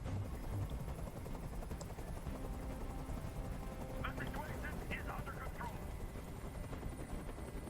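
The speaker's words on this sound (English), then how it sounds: "Tell that helicopter to get out of here." A helicopter drones steadily overhead as a constant low rumble and rotor chop throughout, with faint voices and scattered noises beneath it.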